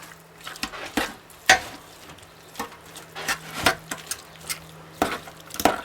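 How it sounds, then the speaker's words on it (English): Two forks shred cooked beef in a pot, making irregular metallic clicks and scrapes with soft squelches, close up over a low steady hum. "And now with 2 forks, we're going to shred the beef"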